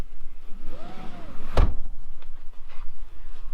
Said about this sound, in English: we can drop down these seat backs in a 60-40 split